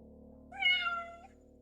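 Ninja the cat gives a single clear meow, rising and then fading over about a second, close and distinct against a quiet background hum.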